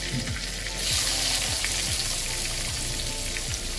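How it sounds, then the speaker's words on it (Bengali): Chopped onion hits hot oil already tempered with fenugreek seeds and bay leaf for a Bengali beet korma, giving a loud, steady close-up sizzle with a brief surge, plus faint clinks of stirring and no talking. "মেথি ফোড়ন দিলাম, তার মধ্যে দিলাম তেজপাতা। এবার এর মধ্যে দেবো পেঁয়াজ।"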